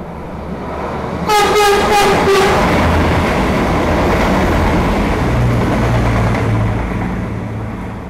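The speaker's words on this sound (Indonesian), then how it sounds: "Akan ada kereta yang melintas langsung. Ini kereta Bandara" An airport express train rushes straight through a station with a loud, steady roar, a brief horn-like tonal blast near the start, then the rumble slowly fades.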